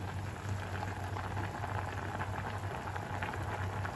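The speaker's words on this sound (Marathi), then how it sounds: "आपला पास्ता शिजतोय" Pasta boiling in a pot of water on a stove, a steady dense bubbling and simmering hiss that carries on evenly without pause.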